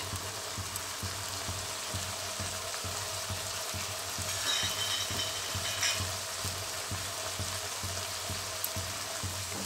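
Ground chili and coriander powder frying in oil in a pan, a steady close sizzle running unbroken throughout with a faint rhythmic hum underneath.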